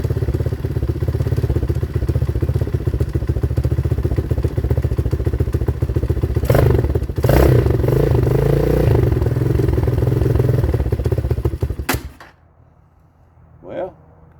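A 2019 Hawk 250cc motorcycle engine idles on choke with a steady, rough, loud mechanical drone for about twelve seconds, then cuts off abruptly, leaving near-silence apart from one brief knock near the end.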